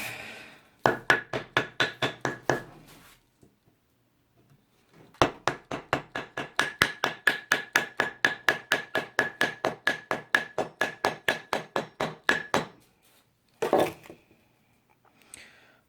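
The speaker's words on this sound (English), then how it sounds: "it's the moment where it needs to be hammered in" A blunt object hammers a handle into an epoxy-filled hole in rapid, sharp repeated knocks, a short run, a pause, then a longer steady series of loud close strikes ending in a few scattered blows.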